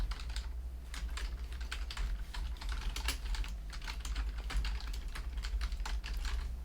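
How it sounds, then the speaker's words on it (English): Rapid, steady clatter of a computer keyboard being typed on, heard close and continuous with irregular key strikes and no pauses, picked up by a budget streaming microphone. "I'm going to grab a keyboard and start typing below it."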